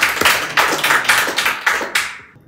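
Applause from a studio audience at a comedy quiz show, several short bursts of clapping that swell and fade in quick succession, fairly close, then dying away.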